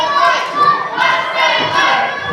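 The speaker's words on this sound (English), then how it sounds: "Mustang Mike getting the support of the crowd here" A pro wrestling crowd roars in support of Mustang Mike, a dense, loud arena cheer that swells and dips in waves, with no clear single voice on top.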